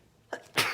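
A single close human sneeze: a short sharp intake followed by a loud, breathy burst, alone with no talk.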